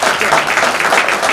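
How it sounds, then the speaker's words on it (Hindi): A short burst of thick, continuous crowd clapping rises at an inaugural ceremony for a textile showroom in Udaipur, close and fairly loud. "तालियों की गड़गड़ाहट कम नहीं होनी चाहिए।"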